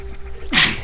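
One quick, sharp sneeze bursts out close to the mic after a faint steady hum, as a person sneezes during a live Metroid gaming marathon.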